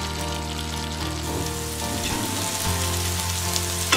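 Masala gravy with butter for paneer makhanwala sizzling and bubbling steadily in a pan, a close, constant crackle with a low hum beneath and no talking.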